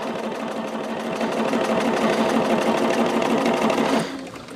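A sewing machine runs continuously while stitching a seam on a fabric summer bag made with fusible grid, a loud, even mechanical whir with rapid needle chatter that stops abruptly near the end.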